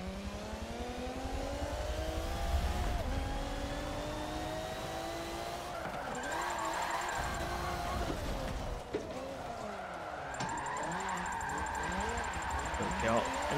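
A Volvo drifts in the Forza Motorsport 7 racing game, its engine revving and wailing continuously with shifting pitch and tire squeal, close and loud throughout, while someone talks over it.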